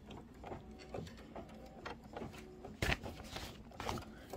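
An embroidery machine sews a tack down stitch, a quiet, even run of rapid needle taps with a louder clack near the middle, alone without talk.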